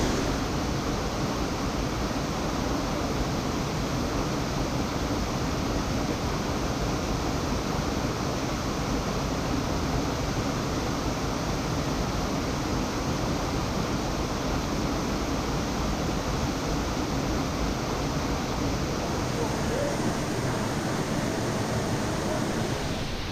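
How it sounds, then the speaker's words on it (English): Goit Stock Falls plunging into a deep plunge pool, a steady broadband rush of falling water that fills the whole stretch evenly and loudly, with no voices over it. "Welcome to Goit Stock Falls."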